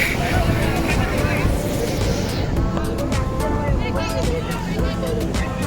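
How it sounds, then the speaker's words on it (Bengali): A water bike ride on open water, with a steady loud engine drone and wind rush throughout while several people talk over it. "এখন আমরা ওয়াটার বাইকে উঠবো আর কি first time first time water বাইকে"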